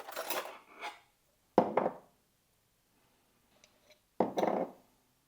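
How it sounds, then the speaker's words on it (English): Nut butter scooped into a bowl, in three short bursts of utensil scraping and clinking against the dish separated by quiet gaps, close and fairly soft with no talk. "I'm gonna add, what was it? 20 grams of nut butter."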